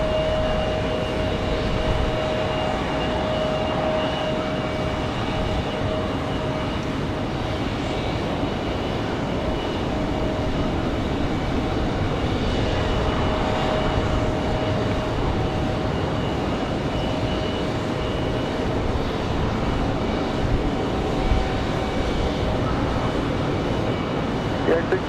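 A United airliner arriving at Raleigh Durham airport on a windy day, its distant engine roar a steady broad wash with a faint whine, continuing evenly with wind noise throughout.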